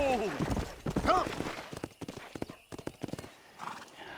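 Horse hooves clip-clop and a horse whinnies in the Western video game Red Dead Redemption, the whinny rising early over a rider's shouted commands, then irregular hoofbeats continuing close by.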